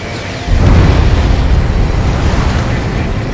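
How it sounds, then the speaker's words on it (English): A deep, muffled boom of an underwater explosion in the video game Ace Combat 7 erupts and rolls on as a sustained low rumble, loud and heavy, with no talking over it. "A huge explosion just went off underwater."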